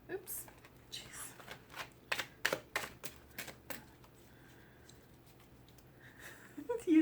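Tarot cards shuffled by hand in a run of quick riffling, flicking bursts that come one after another, then a quieter stretch; a person talks faintly in the background.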